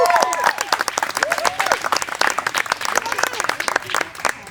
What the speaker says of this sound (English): Hey, Emerson, give me a round of applause.